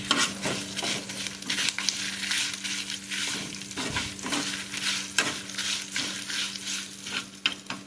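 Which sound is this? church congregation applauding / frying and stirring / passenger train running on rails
frying and stirring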